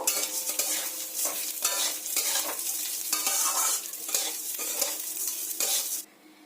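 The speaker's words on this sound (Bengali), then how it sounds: "ঘিটা গরম হয়ে গেছে এবার চালগুলো এতে দিয়ে দেবো চালগুলো একটু লাল করে ভেজে নেব" Rice sizzles as it fries in hot ghee, with steady loud crackling and occasional stirring scrapes. It continues without pause and cuts off sharply near the end.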